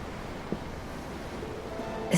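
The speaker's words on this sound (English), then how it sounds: "I'm looking at the ocean. The ocean? Yeah. The waves." Steady ocean surf from the Tales of Arise video game, a soft continuous wash of waves with a faint thump partway through and a slightly louder swell at the end.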